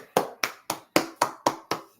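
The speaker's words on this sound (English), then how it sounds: "Everybody clap it up" Seven sharp, evenly spaced hand claps ring out close by in a regular rhythm, each a crisp smack with a quick decay, with no talking.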